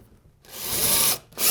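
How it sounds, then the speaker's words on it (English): A power drill drives a screw into drywall during a wall hole repair, giving a short, close whir of about three quarters of a second that stops briefly and then starts again. "I'm going to put an additional screw in."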